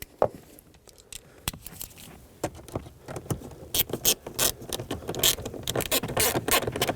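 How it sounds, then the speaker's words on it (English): Screw being driven in by hand to fasten the kick panel of a 2012-2019 Fiat 500, a close series of irregular ratcheting clicks that grow denser and louder as it tightens. "grab your screw and start it in"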